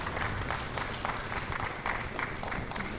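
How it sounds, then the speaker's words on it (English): A crowd at an administrative professionals conference applauds a newly introduced speaker, a continuous wash of many hands clapping at moderate, even loudness for about three seconds. "keep the applause coming"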